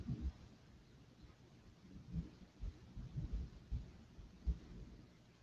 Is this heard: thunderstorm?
yes